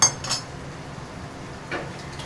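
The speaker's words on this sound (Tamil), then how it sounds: "மூடி போட்டுருங்க." A metal lid goes onto a cooking pot of rice for biryani, giving a few light clinks and a soft clatter at the start and again near the end over quiet background noise.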